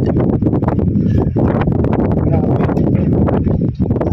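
Sandstorm wind in Libya roars and buffets steadily and loudly right at the microphone, with gusty surges throughout.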